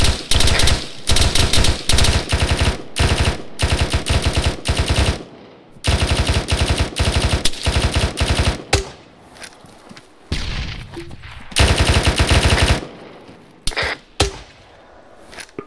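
Enemy automatic gunfire in ARMA 3 rips through in long, loud, rapid bursts separated by short pauses, with a few isolated single shots near the end.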